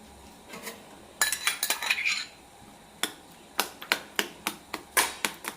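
Ripe Palayamkodan bananas being mashed in a bowl, giving a run of sharp utensil clinks and scrapes, with close, irregular taps and short bursts of scraping and no voice over them.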